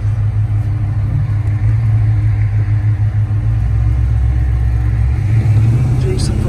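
A 1969 Dodge Charger pro touring car with a 373 posi rear end drives through Detroit city traffic at night, a loud continuous low engine rumble that swells slightly as it pulls ahead.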